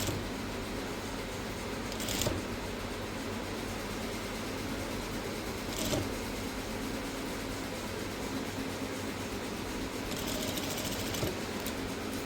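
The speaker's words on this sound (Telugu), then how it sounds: "ఇప్పుడు ఈ హ్యాండ్ని ఏ విధంగా స్టిచ్ చేయాలని చూపిస్తాను చూడండి." A sewing machine stitches frills onto the end of a blouse sleeve with a continuous fast mechanical whir. It runs steadily and moderately loud throughout, with a few faint clicks and shifts along the way.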